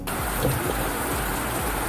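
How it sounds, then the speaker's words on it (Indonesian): Rain falls steadily outdoors beside a road while riding a cafe racer motorcycle in West Java, a constant, even hiss of drops with no voices. "Sepertinya hujan lagi nih."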